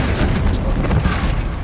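A fire-blasting spell explosion in a wizarding action game: a loud, sustained boom with heavy low rumble filling the whole moment, without a distinct second burst.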